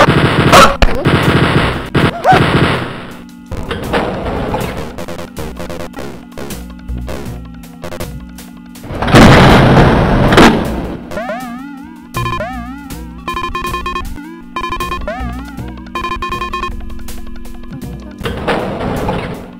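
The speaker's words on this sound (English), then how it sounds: "Stop shooting me in the face!" Wolfenstein 3D gunfire crackles in loud, rapid clusters of shots at the start, the middle and the end, with quieter stretches between filled by bright electronic game tones.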